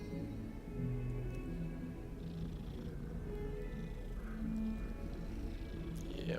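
A cat in the Hogwarts Legacy video game purring continuously and close, a steady low rumble with faint tonal music underneath and no talking.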